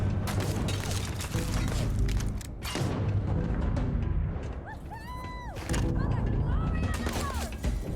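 Gunfire in Starfield rattles in dense, booming bursts with mechanical clunks and whirring tones between volleys, loud and near, with a voice briefly heard over the action.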